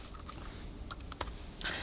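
Typing on a computer keyboard while searching for an application to run, a short run of light, quick key clicks with a few sharper taps, close and alone with no talk.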